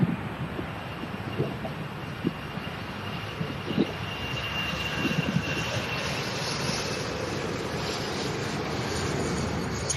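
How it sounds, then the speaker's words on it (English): A Jet2 Boeing 737 airliner landing at an airport, a broad, steady roar of engines and rushing air heard from a distance, swelling slightly as it goes on, with no one talking. "Awesome landing from the Jet 2737 air."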